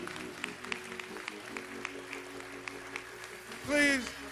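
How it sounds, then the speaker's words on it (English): Applause from the audience at George Floyd's memorial service in Minneapolis, a steady diffuse patter of many hands that goes on under talk and a rising sung or called voice. "please give his family another round of applause"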